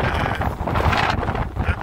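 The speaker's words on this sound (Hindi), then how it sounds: "बहुत तेज हवा है" Strong wind blowing at a scenic viewpoint, a loud, steady roar buffeting the microphone without pause.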